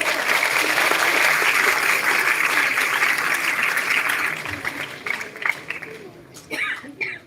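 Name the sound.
audience applause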